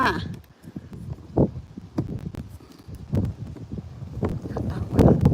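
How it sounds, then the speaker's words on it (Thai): Strong wind gusting by the water at a park in Mudgee, a steady broadband rush with louder buffeting bursts against the microphone throughout, with faint voices underneath. "ลมก็แรงค่ะ"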